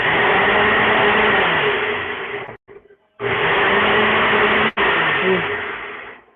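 A Ninja Foodi blender runs on its automatic sauce setting, a loud steady motor whir that cuts out abruptly twice, briefly pausing before resuming, then fades slightly toward the end.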